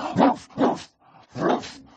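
A Tibetan dog barks three times in close succession, loud and near, with a short pause before the third bark and no talking.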